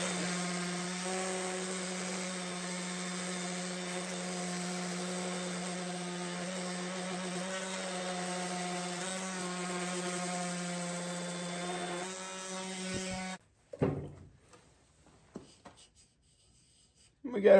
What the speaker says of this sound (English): Then I'll take my orbital sander here.